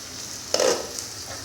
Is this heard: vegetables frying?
yes